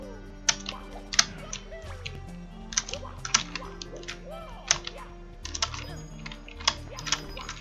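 Computer keyboard keys clack in quick irregular bursts during a Super Mario 74 speedrun, with sharp close taps and a few harder presses over a steady low game hum.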